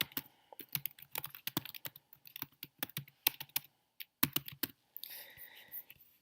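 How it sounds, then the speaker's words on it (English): Typing on a computer keyboard, with close, crisp key clicks in quick irregular bursts and brief pauses between runs. "you type in whatever it is that you want to type"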